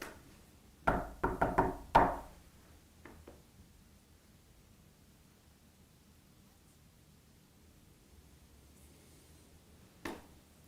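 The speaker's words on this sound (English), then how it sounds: "I'm going to knock" Knuckles knock on a hard surface inside an old county jail at night: a quick cluster of about five sharp raps, then near-silence and a single fainter knock near the end, with no talking.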